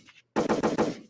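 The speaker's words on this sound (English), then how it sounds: "Gunshots. Woo, the sweet sound of gunshots." Gunshot sound effect played on a podcast, a rapid burst of four loud, close shots in quick succession like automatic fire, alone.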